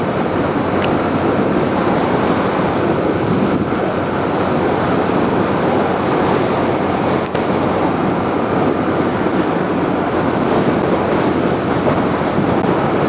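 Strong coastal wind buffets the microphone in a loud, steady roar during a supermoto ride near coconut trees, with no voice heard.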